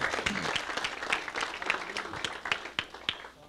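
Church congregation applauding in worship, a fairly distant crowd clapping at a brisk pace, thinning into a few sharper individual claps near the end.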